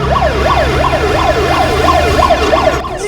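Ambulance siren wailing loudly and close, a rapid rising-and-falling electronic sweep repeating evenly over a low vehicle engine rumble, with no talk.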